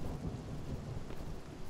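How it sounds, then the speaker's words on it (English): A thunderstorm in the video game Spiritfarer: a low rolling rumble of thunder over steady rain, continuous and fairly soft, with no voices. "Ooh, lightning storm."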